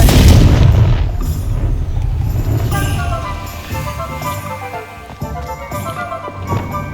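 In the Hogwarts Legacy video game, a Confringo fire spell explodes in a loud, close burst that rumbles and fades into lighter game ambience with soft tonal music and scattered small impacts.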